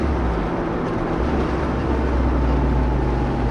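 A turbocharged EF Honda Civic on the road gives a steady, loud, low engine and road drone from inside the car, with no talking.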